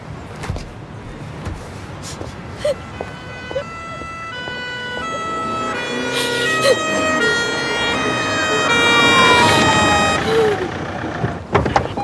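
An ambulance siren wails loudly and continuously, its rising and falling tone close by over road traffic noise.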